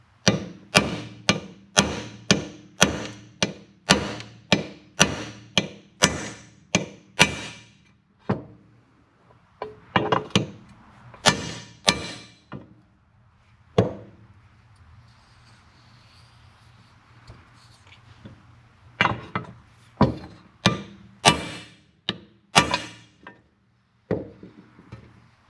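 Repeated sharp metallic taps drive a Harley-Davidson inner primary shift shaft seal into place with a cheap impact socket, sounding in close, rapid bursts of strikes separated by short pauses.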